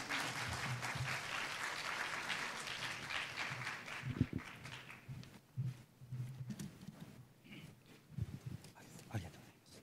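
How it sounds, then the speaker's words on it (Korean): Symposium audience applauding a speaker, a dense burst of clapping from a seated crowd that tapers off into scattered claps and faint room noise. "큰 박수로 시작하겠습니다"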